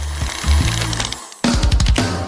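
A blender or juicer whirs as it purees fruit into juice, a close, loud motor drone that cuts out briefly and then starts up again.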